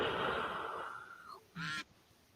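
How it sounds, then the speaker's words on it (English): A short duck quack sound effect played during an adult livestream, heard as one brief nasal honk near the end after a fading tone. "You can imagine how many streams those duck sounds are on"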